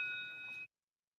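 A voting bell in a legislative House chamber gives a single bright electronic ding, sustained briefly and faint, then cutting off abruptly into silence.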